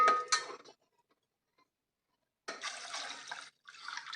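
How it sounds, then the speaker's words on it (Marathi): Yelavani water poured into a pot of amti curry, two bursts of splashing liquid separated by a silent gap, close and fairly soft. "येळवणीचं पाणी आहे ते आपण ह्याच्यामध्ये घालून घेतले"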